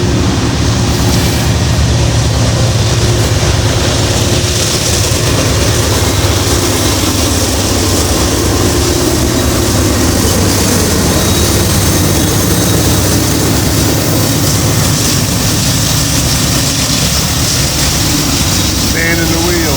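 A heavy freight train locomotive engine working hard rumbles steadily and loudly for the whole stretch, a dense low drone with broadband roar and a voice talking over it.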